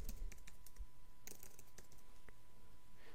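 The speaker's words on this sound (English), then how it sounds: "I will enter my username and password" A username and password are typed on a computer keyboard in a quiet room, with a close run of light, irregular key clicks that pause briefly and then pick up again.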